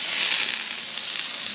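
A stick of butter sizzles and spits on a hot Blackstone griddle outdoors, a close, steady hiss with faint crackles and no speech over it.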